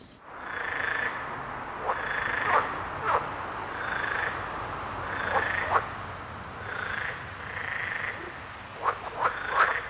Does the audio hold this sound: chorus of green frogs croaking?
yes